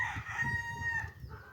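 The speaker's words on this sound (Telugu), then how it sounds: "ఇక్కడైతే మస్తు కోడిలు ఉన్నాయి" Chickens at a farm coop with chicks nearby, a rooster crowing in a long sustained call over steady low clucking from several hens, close and fairly loud.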